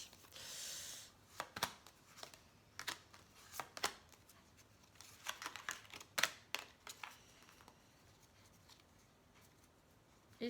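Tarot cards being shuffled by hand, a series of quiet, crisp riffling bursts and soft slaps coming in irregular clusters with short pauses between, close and gentle.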